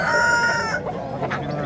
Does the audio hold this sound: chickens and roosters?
yes